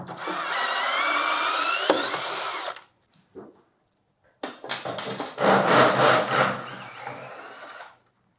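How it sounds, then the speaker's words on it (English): A power tool with a 10 mm socket whirs loudly, removing mounting brackets that hold a PHCbi VIP ECO ultra-low freezer to its shipping skid. Two sustained bursts of driving are separated by a pause of scattered clicks and clatter. "we'll remove these final two mounting brackets on both left and right hand side, jumping back to a 10 millimeter socket"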